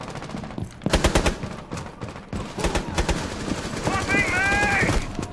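Rapid gunfire from the tactical shooter Rainbow Six Siege crackles in several loud bursts, with sharp repeated shots clustered early and a later stretch of fire beneath tonal game effects, while a voice talks over parts of it.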